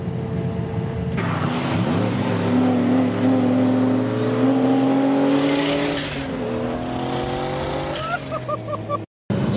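A car engine in a street race revs hard and climbs steadily in pitch as it accelerates, loud and close, with rising whine and a faint voice at times, before cutting off abruptly at the end.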